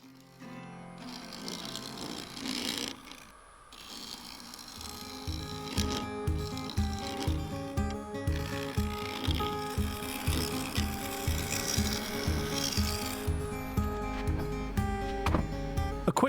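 Freshly sharpened negative rake scraper working a cherry and epoxy resin vase on a lathe, a steady rhythmic scraping and rasping with regular pulses from the spinning blank, close and continuous, with no talk.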